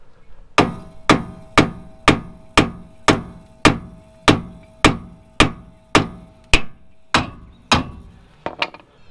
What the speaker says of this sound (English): I'm going to pop this with a hammer here.